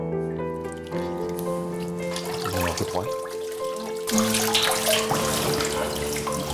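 Whey drains and trickles from freshly cut farmhouse sheep's milk cheese, a steady close splashing pour like water running into a basin that grows louder partway through, with no voices.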